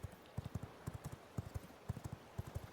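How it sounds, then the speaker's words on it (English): Horse hooves clip-clopping steadily in the video game V Rising, a fast, even trotting rhythm of soft distinct thuds that carries on throughout with no talk over it. "The benefits of having a fast horse is that we just get there really fast."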